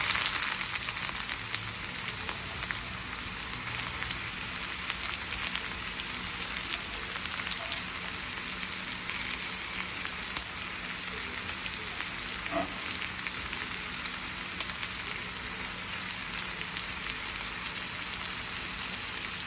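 Sliced onions just dropped into hot oil for a Kerala jackfruit and beef biryani crackle in a pan, a loud, even, continuous sizzle with occasional faint ticks and no speech.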